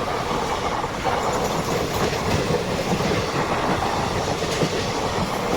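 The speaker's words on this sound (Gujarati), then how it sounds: "મિત્રો કોઈ ટ્રેન આવે છે પણ કાંઈ ખબર નથી કઈ ટ્રેન આવે છે." A train, likely the Porbandar Dadar Express, rolls past close by with a loud continuous rumble, clickety-clack wheel rhythm and faint squeals, no talk.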